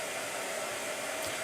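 Steady, loud whooshing roar of a blow dryer running continuously, close by, with no talk.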